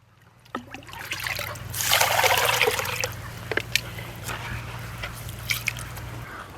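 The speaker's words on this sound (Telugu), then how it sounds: "ఈ బియ్యాన్ని రెండు మూడు సార్లు శుభ్రంగా కడుక్కోవాలి" Rice is washed by hand in water, with a swelling swish of stirring and trickling followed by scattered drips and splashes, near and moderately quiet, over a low steady hum.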